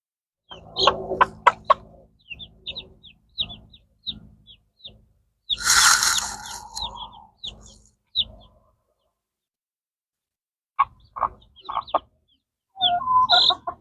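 A broody hen clucks low and steady among her baby chicks, whose high thin peeps come in scattered bursts, with a louder flurry of squawking and flapping midway and quiet gaps between calls.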